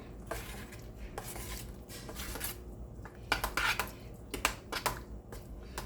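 A spoon mixes semolina into batter for paneer chilla in a bowl, making close scraping and clinking strokes in irregular bursts, with no voices.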